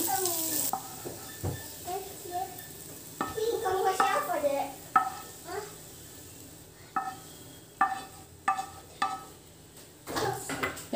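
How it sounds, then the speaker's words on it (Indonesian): Onions sauté in a pan as a utensil repeatedly scrapes and clinks against the metal, sharp stirring strokes over a low steady sizzle, with no voices. "Ini bawang bombaynya kita tumis sampai wangi, sampai layu ya."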